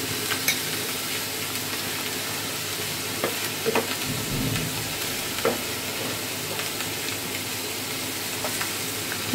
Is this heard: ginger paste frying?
yes